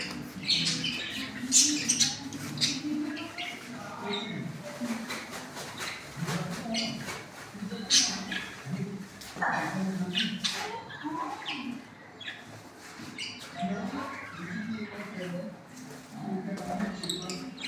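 Aseel chickens and chicks squawk and cluck continuously at feeding time on a farm, many birds close by and busy, with someone talking intermittently over them.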